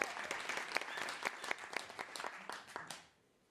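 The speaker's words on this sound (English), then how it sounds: "You can applaud for that." Audience applause for a country singer at a live event. Sparse, fairly quiet clapping comes from a modest crowd with distinct individual claps, then it fades out after about three seconds.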